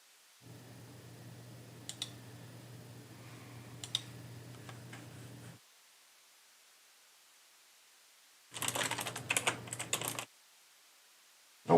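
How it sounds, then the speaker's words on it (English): Typing on a computer keyboard, a run of soft rapid key clicks over a faint hum, a pause, then a second, louder burst of quick keystrokes. "You can just listen to my keys"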